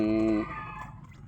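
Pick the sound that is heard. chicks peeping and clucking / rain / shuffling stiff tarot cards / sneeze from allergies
chicks peeping and clucking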